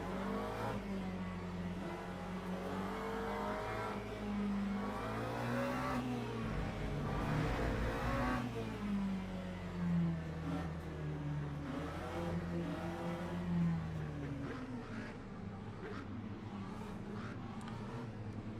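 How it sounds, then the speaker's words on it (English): McLaren 720S GT3 race car engine in the sim racing game Le Mans Ultimate on a formation lap, a steady humming drone rising and falling with throttle while other cars' engines blend in nearby. "Still in our favourite McLaren 720S GT3"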